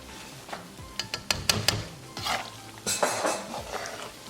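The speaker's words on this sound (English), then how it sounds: "we're going to keep mixing it on medium gas." Flour roasting in desi ghee for panjiri, stirred in a pan over medium heat: a spoon scrapes and clinks against the pan in short uneven strokes with a faint sizzle, close and moderately quiet.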